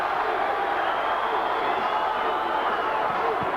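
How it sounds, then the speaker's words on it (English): A boxing crowd chants and roars at a 1999 WBA bantamweight title fight between Johnny Tapia and Paulie Ayala. The crowd noise is a dense, steady wall under a commentator's voice. "Another part of the crowd chanting, Paulie,"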